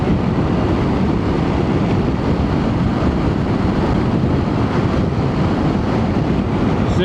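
Harley-Davidson Pan America (2024) cruising in sixth gear, a steady, loud broadband roar of engine and wind rush that holds constant with no pauses or speech.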